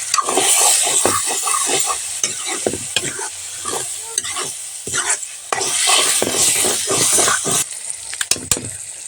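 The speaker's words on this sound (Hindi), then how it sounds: "अब अच्छे से भूनते हैं।" Cumin, green chilli and turmeric fry in a pan with a steady close sizzle, broken by a quick irregular rhythm of utensil stirring and scraping throughout.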